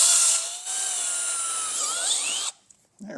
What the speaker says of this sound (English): Now we can drill our final hole on the upper flange